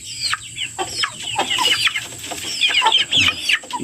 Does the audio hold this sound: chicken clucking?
yes